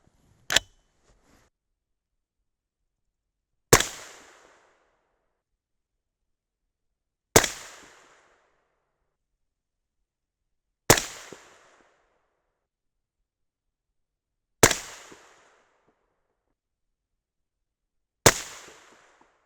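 Six sharp rifle shots using 77gr Berger OTM Tactical bullets over 8208 XBR powder with Winchester WSR primers, fired one at a time about three and a half seconds apart, each a loud crack with a short decaying tail, with no talking.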